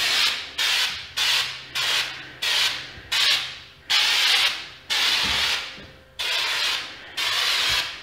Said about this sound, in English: Now, this is just like spraying regular texture.